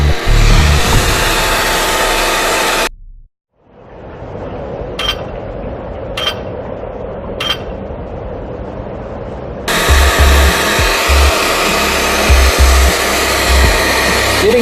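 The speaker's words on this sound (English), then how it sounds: "Do the hair dryer again." A hair dryer roars loudly while drying paint on a cardboard model, cuts off for several seconds while a quieter hiss and a few sharp clicks come through, then blasts back on.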